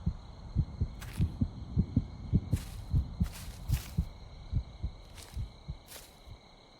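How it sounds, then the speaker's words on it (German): Steady heartbeat sound effect in the horror video game The Cursed Forest, a regular low double-thump pulse repeating throughout, loud and close, with faint higher clicks or rustles scattered over it. "Mein Herzschlag ist gerade irgendwie komisch."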